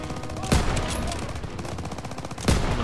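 Gunfire and explosions from the video game Call of Duty WWII, with two sharp booming blasts about two seconds apart over a dense background of in-game battle noise.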